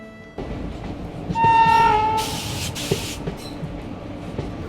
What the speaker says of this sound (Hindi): एंड टू एंड चलने वाली भारत की सबसे छोटी दूरी की ट्रेन